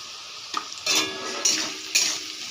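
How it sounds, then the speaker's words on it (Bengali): Semolina fries in a pan with salt, turmeric and sugar as a spatula stirs it, giving three or four bursts of scraping sizzle over a quieter background hiss. "আবারও একটু নেড়ে নেব।"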